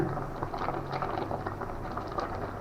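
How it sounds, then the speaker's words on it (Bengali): Rice and lentils boiling together in a pot for khichuri, a steady close bubbling and simmering with soft irregular pops running throughout, no voices. "এই চালটা এবার ফুটছে চাল ডাল এটা ফুটে ফুটছে"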